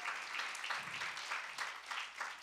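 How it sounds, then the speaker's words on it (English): A church congregation gives a soft, polite golf clap, a steady wash of quiet hand claps heard from across the room. "That's like a golf clap."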